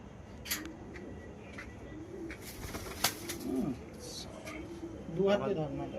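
Pigeons coo softly near a pigeon loft while wings flap now and then. The birdsong sits over steady background noise, and people can be heard talking nearby.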